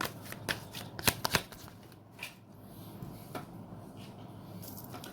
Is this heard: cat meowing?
no